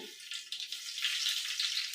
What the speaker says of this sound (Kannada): ಈಗ ಒಗ್ಗರಣೆಗೆ ಸಾಸಿವೆ ಹಾಕ್ಕೊತಾ ಇದ್ದೀನಿ